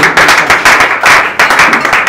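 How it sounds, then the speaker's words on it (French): Loud, close applause from a crowd at a gathering of Congolese artists and musicians, a thick wash of rapid clapping that surges in a few pulses over a couple of seconds. "On les applaudit très très fort"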